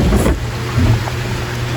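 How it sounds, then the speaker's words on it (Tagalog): Heavy rain pours steadily while a low thunder rumble swells underneath, forming a dense, continuous roar of downpour. "Sa amin po ay sobrang lakas po ng ulan ngayon."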